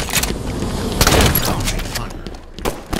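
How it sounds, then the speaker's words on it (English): Shotgun blasts in a tense shooting sequence, several loud broadband bangs overlapping near the one-second mark with more reports trailing off, thick and continuous rather than separated shots. "work with the shotgun"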